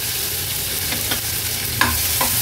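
Chopped onion, tomato and green chilli sizzling in hot oil over a high flame while a spoon stirs and scrapes the pan, a steady close frying hiss with a few light clinks.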